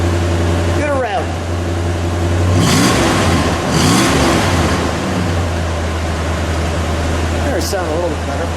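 A 1960 Chrysler 300F convertible's 413 V8 rumbles at a steady idle, then revs sharply twice and once more near the end, loud and close, with people talking over it.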